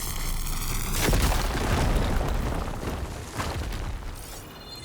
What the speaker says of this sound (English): Should be able to blow up that fire drain. Just ignite this.